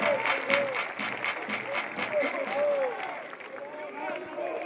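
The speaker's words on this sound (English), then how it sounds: "Everybody clap your hands." A crowd claps in rhythmic unison at a college baseball game, steady beats under a pattern of repeated whistle-like organ or chant tones, with voices from the stands.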